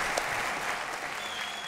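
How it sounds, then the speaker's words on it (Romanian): Stand-up comedy contest audience applauding steadily after a comic's set, a fairly soft, even wash of clapping with faint crowd murmur underneath. "Să mai aplaudăm pe Ducu."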